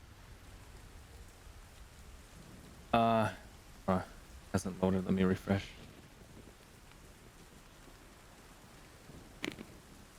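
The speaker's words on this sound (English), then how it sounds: "You can hear the storm and the thunder in the background." Steady rain ambience from a stormy tabletop game map called Valken, a soft even hiss filling the background while a person talks briefly over it.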